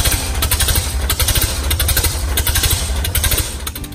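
A motorcycle started with a kick starter runs loud and close, its engine pulsing in a rapid, steady rhythmic chug with no voices.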